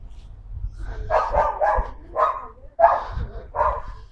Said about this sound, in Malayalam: പട്ടീന് നല്ല കോര കേൾക്കുന്നുണ്ടല്ലേ